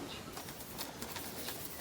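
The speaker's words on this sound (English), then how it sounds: "the bird song outside is absolutely lovely" Birds singing outdoors through an open door during a quiet watercolour painting session, with soft cooing and faint chirps running steadily at a distance, low in level against room ambience.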